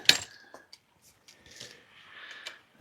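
A folding e-bike's handlebars snap into place with a sharp metallic click at the start, followed by faint scattered rattles and taps, with brief quiet speech, and another click at the end.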